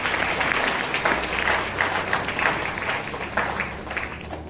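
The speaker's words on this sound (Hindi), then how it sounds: "जोरदार ताली बजाइए और उसकी महिमा करिए।" A church congregation applauds in praise at a worship service led by Apostle Moses Lal, with thick, continuous clapping that holds a steady level throughout.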